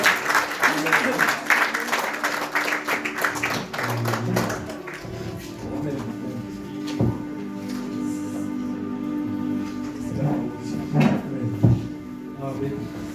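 Worshippers applaud and acclaim the Lord during a church service, scattered clapping strongest at first and then thinning, with voices and a few sharp claps standing out over steady sustained tones.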